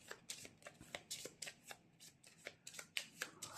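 A deck of cards from the Astro Knights board game is shuffled by hand at close range. Quiet, rapid riffling and flicking sounds repeat in an irregular rhythm, with no talking.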